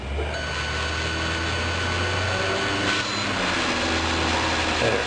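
A whining power drill runs steadily, its dull bit grinding into PVC pipe with a buzzing, rasping tone and a slight surge midway.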